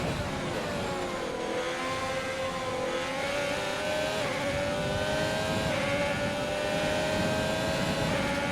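The Haas Formula 1 car's engine in the F1 2020 racing game screams at high revs, a continuous loud whine that climbs and drops with each gear change and corner, alone without talk.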